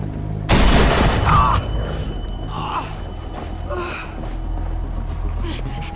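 Gunfire in The Walking Dead video game: a loud burst of shots opens the clip, followed by quieter booming impacts and a steady game ambience.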